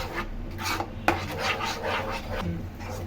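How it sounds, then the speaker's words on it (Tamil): A spoon scraping and stirring thick halwa in a pan, a close rasping rub that repeats in short, uneven strokes, with one sharper knock. "இதே மாதிரி கிண்டி விட்டுக்கிட்டே இருங்க. நல்லா அல்வா பதத்தில் வரணும்"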